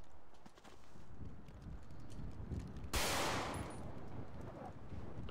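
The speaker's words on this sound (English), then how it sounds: "Run, Stan, you're being shot at." Burst of gunfire in a video game aimed at a player, a sharp broadband crack midway over steady rumbling background noise, with scattered impacts before and after.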